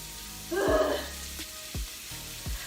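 A short hiss of meat sizzling in a hot pan, followed by a few faint thumps and clicks.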